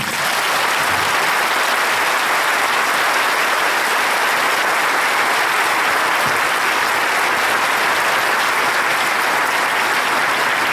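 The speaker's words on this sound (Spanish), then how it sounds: "Un aplauso a la Virgen María." A congregation at a Spanish-language Catholic gathering applauds for the Virgin Mary, with loud, sustained, even clapping that continues without a break for nearly eleven seconds.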